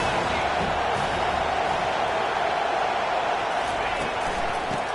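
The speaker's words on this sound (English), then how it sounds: "This crowd bringing the energy and noise early." A large college football stadium crowd roars steadily and loudly throughout, a dense wash of cheering voices with no pauses.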